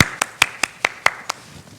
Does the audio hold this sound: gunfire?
no